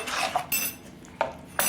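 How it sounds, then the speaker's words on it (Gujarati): A metal spoon stirs and scrapes through jowar pudla batter mixed with chopped onion, tomato and chilli in a bowl, giving a few quiet clinks and knocks against the side at close range. "હવે આપણે મિક્સ કરી લઈશું સારી રીતે"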